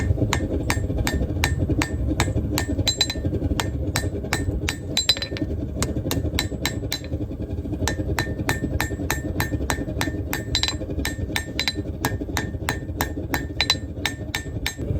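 Rapid, steady blows of a light 1.5-pound hammer ringing on a steel knife blade forged from an old horseshoe, striking again and again with bright clinking tones throughout.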